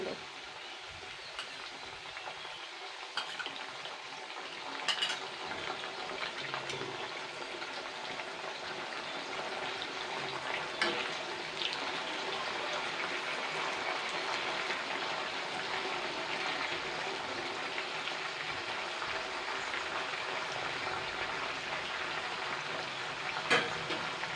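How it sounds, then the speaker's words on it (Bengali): Potato chips fry in hot oil as salt water is added by the spoonful, giving a continuous loud sizzle and spatter with scattered sharp pops and crackles throughout, and no voices. "গরম তেলে যখন জল পড়ে কীরকম ছিটকায় আমি অল্প অল্প এক চামচ করে করে দেবো"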